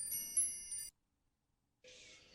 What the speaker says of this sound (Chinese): 一段风铃的声音很空灵